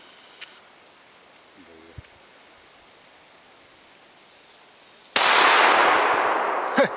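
A single sharp shotgun blast rings out at close range during a hazel grouse hunt in the forest, its loud burst trailing into a long decaying roar after a quiet, near-silent stretch.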